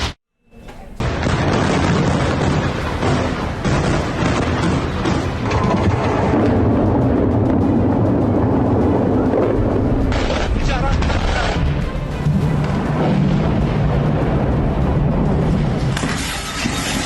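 Missile strike explosions fill the air with a loud, dense roar of booming blasts and rumbling that carries on almost without a break after a brief quiet opening.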